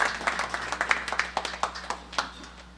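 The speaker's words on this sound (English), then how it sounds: "You guys should really give her a round of applause for everything that she does." An audience claps in a steady patter of many hands at moderate distance, fading slightly toward the end, with no voices over it.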